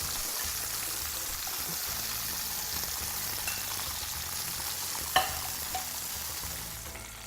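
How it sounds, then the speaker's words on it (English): Mushrooms frying in olive oil in a pan, a steady soft sizzle that holds evenly throughout, with one brief clink partway through and no voices. "Now my mushrooms are cooking away."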